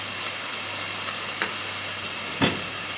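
Minced meat frying in a pan as its fat renders out, a close, steady sizzle with a couple of sharper crackles and stirring clicks.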